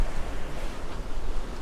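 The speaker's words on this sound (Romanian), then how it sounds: "Vântul e destul de tare, valurile sunt mari." Strong wind and large, crested sea waves off Santa Maria di Leuca at the tip of Italy, heard from a boat as a loud, steady, close roar of rushing air and surf with no break.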